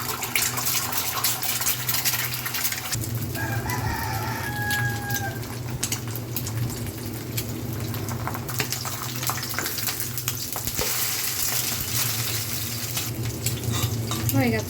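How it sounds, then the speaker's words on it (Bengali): Eggs sizzling in hot oil in a frying pan, a steady loud crackling hiss running throughout with brief higher tones in the background. "প্যানটা গরম হলে প্রথমে ডিমটা পোস্ট করে রেখেছি।"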